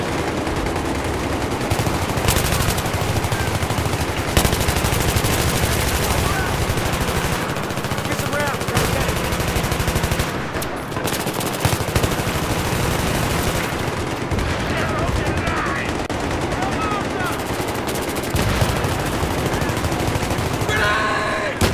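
Rapid gunfire from a suppressed M1911 pistol in Battlefield 3 multiplayer crackles in dense bursts throughout, mixed with other weapons and game noise, with a voice talking intermittently over it.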